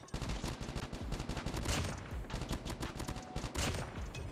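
Steady rapid-fire bursts from a Type25 rifle in Call of Duty Mobile hammer out at close range, a dense rhythmic rattle that runs without pause and stays fairly loud throughout.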